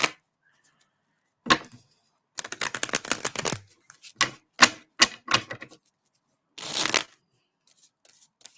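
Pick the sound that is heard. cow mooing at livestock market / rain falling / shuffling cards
shuffling cards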